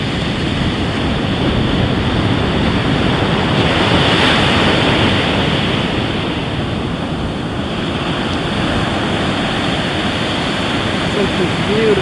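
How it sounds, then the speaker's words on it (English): Waves break on the beach at Emerald Isle, North Carolina, on a morning after a hurricane, a loud continuous surf roar mixed with wind buffeting the microphone across the whole stretch. "on the beach in Emerald Isle, North Carolina"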